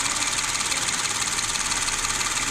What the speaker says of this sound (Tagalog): normal lang talaga na ingay na yan guys, kasi gumagana tong pump eh